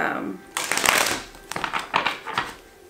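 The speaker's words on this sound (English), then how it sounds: "it's a little difficult to shuffle because of the material it's made out of" A plasticky Lover's Tarot card deck being shuffled, giving a few quick, close riffling bursts of crisp card flicks and slaps within a few seconds.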